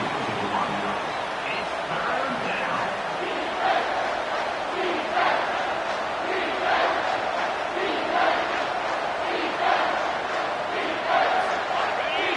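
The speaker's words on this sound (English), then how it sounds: "This crowd will blow out a vocal cord to help this defense" A stadium crowd in the College Football 25 video game roars in a continuous wash of cheering, swelling in rhythmic surges as the defense lines up, loud and sustained.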